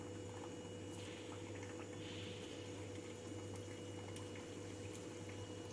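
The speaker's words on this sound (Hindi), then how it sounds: "ऑयल अच्छे से गर्म हो जाए तो इसे डीप फ्राई कर लेंगे।" Soya chaap tikka deep frying in hot oil, a steady faint bubbling hiss with a constant low hum underneath, unbroken and quiet.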